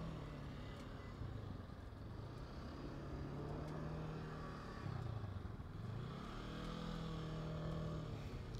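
A motorcycle engine revs at high RPM during slow-speed riding practice, a steady droning hum with rising and falling pitch sweeps as the bike turns, heard at a moderate distance without talk.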